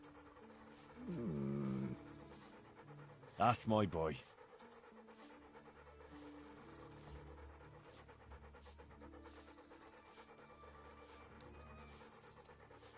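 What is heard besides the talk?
dog panting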